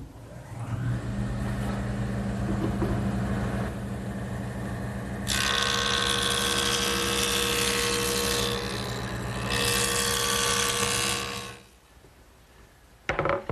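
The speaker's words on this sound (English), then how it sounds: "the next thing I want to do is joint this back edge so that it's straight and square" A jointer planes the back edge of a sanded wood panel for a Shaker wood box, its steady motor drone joined midway by a loud, bright rushing cut that runs a few seconds, eases, swells again, then stops.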